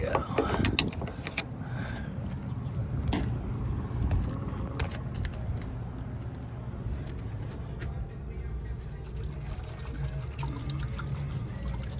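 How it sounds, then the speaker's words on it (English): Water is poured to flush a clogged air-conditioner condensate drain line, a steady close gurgling pour with occasional clanks and handling knocks. "Just pour some water right in here."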